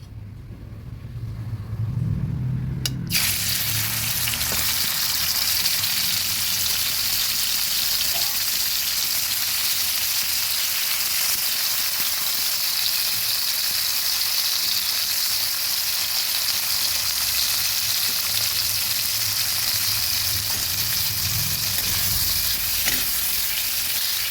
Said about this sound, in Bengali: নুন হলুদ মাখা চিংড়ি মাছগুলো ভেজে নেব